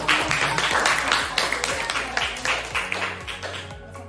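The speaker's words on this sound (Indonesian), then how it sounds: "Tepuk tangan untuk kelompok 1." A fifth-grade class claps for a student group in a classroom, a brisk burst of hand clapping that starts strong and thins out over a few seconds.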